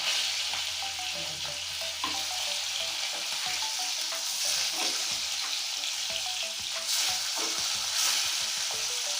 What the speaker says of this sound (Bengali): মাছটা আমার একদম লাল লাল কড়া করে ভেজে নিতে হবে বিরিয়ানি করার জন্য